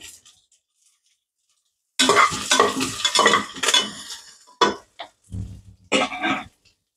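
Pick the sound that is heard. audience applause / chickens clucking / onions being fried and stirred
onions being fried and stirred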